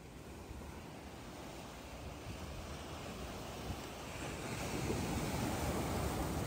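Surf from high-tide waves at Boa Viagem beach in Recife washes continuously, a broad steady roar with wind buffeting the microphone, swelling louder toward the end.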